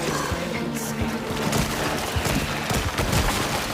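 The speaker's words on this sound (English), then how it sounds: "So, you gotta shoot these to open this up." Gunfire in the VR video game After the Fall, a dense barrage of rapid shots layered over constant loud game noise, with no pauses across the few seconds.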